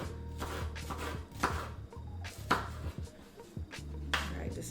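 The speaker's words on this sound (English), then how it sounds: "let's just go ahead and cut these into some little pieces" Tofu being cut into small pieces with a knife on a board, a run of close, irregular chopping knocks and thuds, fairly quiet, with no talk over it.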